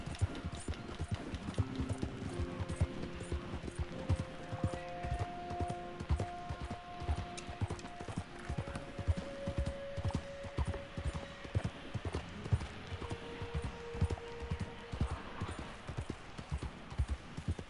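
Horse hooves clip-clop steadily through the whole stretch in Red Dead Redemption 2, a dense run of hoofbeats mixed with game music tones and no talking.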